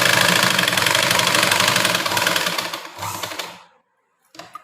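A sewing machine stitches a blouse at close range with a fast, steady mechanical whir that slows and stops. After a brief silence, a second short run follows.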